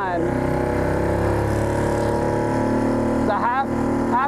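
A Mercury/Tohatsu 6HP outboard motor drives a jon boat at half throttle, giving a loud, steady buzzing drone with constant pitch and a rise near the end, close by and carrying on the whole time.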